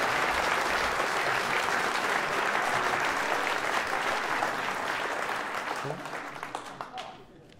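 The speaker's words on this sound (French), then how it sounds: "Je vous demande d'applaudir Pascal Provence." A crowd at a political campaign rally applauds steadily, a dense wash of clapping that holds for several seconds and then gradually fades out.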